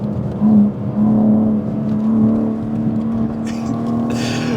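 A BMW M3 Touring driven hard on twisty roads, heard from inside as a loud, steady engine drone with rising and falling pitch under load, plus a short whooshing burst near the end.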